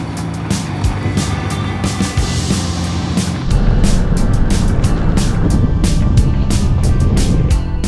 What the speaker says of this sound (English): the transmission's making this like whistling noise